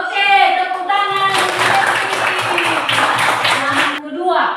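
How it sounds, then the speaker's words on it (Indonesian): Children in a classroom break into a short burst of dense clapping, bracketed by a voice speaking just before and after, close and fairly loud. "Oke, tepuk tangan."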